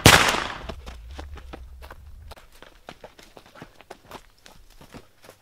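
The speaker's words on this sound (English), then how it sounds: "Why the hell are they shooting at us?" Sharp cracking reports in quick irregular succession, sounding like gunfire at a distance, opening with one loud burst and then a fainter rapid string of pops.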